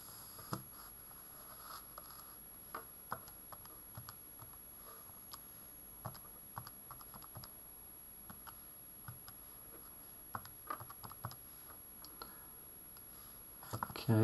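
Calculator buttons are pressed in a quiet room during a maths working session. There is a string of soft, irregular clicks, some in quick pairs, faint over background hiss.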